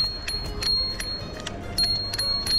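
Bicycle bell ringing on the streets of Pondicherry, a quick series of bright metallic dings repeated in bursts over road noise.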